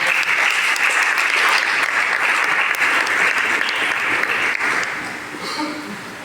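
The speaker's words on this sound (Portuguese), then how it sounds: "Mais uma vez você pode aplaudir o Senhor." A church congregation claps in sustained, loud applause at a worship service, steady throughout and tapering slightly toward the end.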